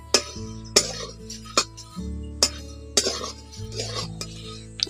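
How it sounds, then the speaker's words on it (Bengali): A spoon or spatula stirs flattened rice (chira) frying in a pan, giving sharp scraping clinks roughly every half second over a steady low hum of the stove. "এই চিড়াগুলোকে এইভাবে নাড়াচাড়া করে ভেজে নিতে হবে"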